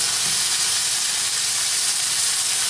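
A quesadilla sizzling in a hot pan, a loud, even hiss of frying that holds steady throughout with no talk.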